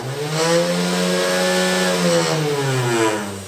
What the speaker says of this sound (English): At max speed this motor is quite loud.